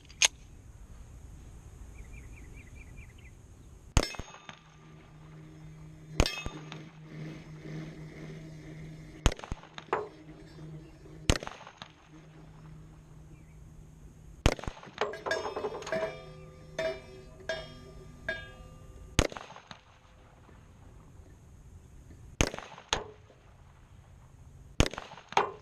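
A handgun loaded with hollow-point rounds is fired at targets outdoors, a series of sharp, loud cracks at irregular intervals, some in quick clusters, separated by quieter pauses.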